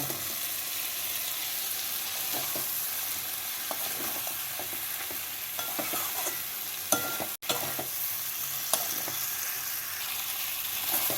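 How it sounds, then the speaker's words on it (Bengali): Fried kohlrabi and potatoes are stirred into spices in a sizzling pan, with a steady frying hiss and scattered scraping taps of the spoon throughout, and no talk. "এবার এর মধ্যে ভেজে রাখা ওলকপি আর আলুগুলোকে দিয়ে মশলার সাথে ভালো করে মিশিয়ে নেব"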